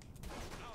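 A short, dense burst of rapid gunfire from the video game Saints Row: The Third, loud and continuous with no clear gaps between shots.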